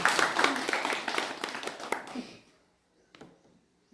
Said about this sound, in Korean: 그래도 박수 한번 쳐주세요.